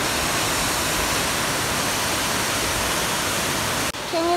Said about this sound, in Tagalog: Grabe, masagana ang tubig dito sa Don Salvador Benedicto.